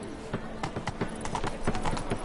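Geralt's horse Roach trots in Witcher 3, with repeated close hoof clip-clops in an uneven rhythm over game background sound and a talking voice.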